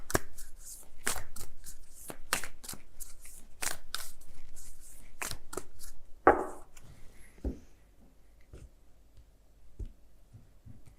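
Work Your Light Oracle cards being shuffled by hand, a rapid series of crisp riffling bursts and slaps that stops partway, followed by a few softer card taps and near silence.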